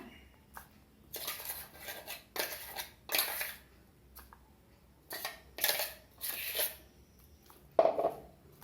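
Ground plantain flower batter for vada is scraped from a grinder jar into a bowl, giving a series of separate metallic clinks and scraping knocks spaced a second or so apart, fairly close and clear, with no talking.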